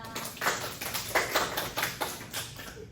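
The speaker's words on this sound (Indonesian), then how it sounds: "Beri tepuk tangan untuk Dita." Students in a classroom give a short, quiet round of clapping, with uneven bursts of a few hand claps rising and falling over about three seconds.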